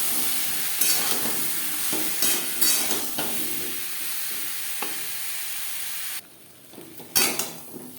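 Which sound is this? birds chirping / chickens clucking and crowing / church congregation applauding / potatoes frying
potatoes frying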